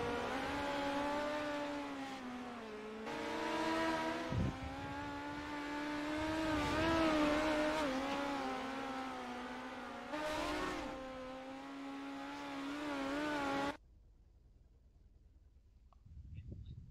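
NORA midget race cars run final warm-up laps at Limaland oval, loud revving engines rising and falling continuously for about fourteen seconds before cutting off abruptly into quiet.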